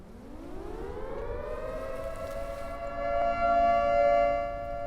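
A power-loss alarm in the factory-building game Dyson Sphere Program rises in a siren-like wail, with rich harmonics climbing and then holding a steady tone. It grows slightly louder toward the end and sounds alone.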